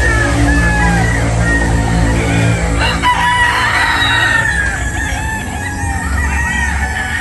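Gamefowl roosters at a game farm crow repeatedly with loud, drawn-out calls that overlap one another, mixed with steady clucking from many birds close by, continuous throughout.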